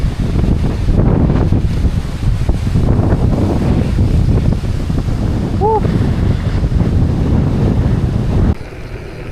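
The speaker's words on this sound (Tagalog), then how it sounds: "Lakas ng hangin." Strong wind buffets the microphone during a bike ride near a waterfall at Kaysuyo Bridge, a loud, continuous roaring rumble that drops off near the end.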